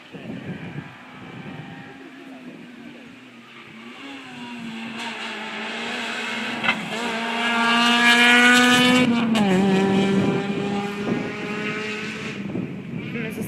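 A rally car speeds past spectators on a stage of a Rzeszów rally, its engine building in pitch and loudness as it approaches, peaking close by, then dropping as it shifts and pulls away, while people talk nearby.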